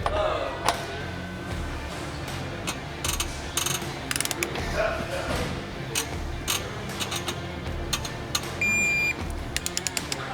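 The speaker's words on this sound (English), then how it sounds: "we got our torque wrench already preset. We're gonna go ahead and torque this bad boy." A preset torque wrench tightens the rear axle nut on a dirt bike, giving close, repeated ratcheting clicks in short bursts with small metallic knocks between them.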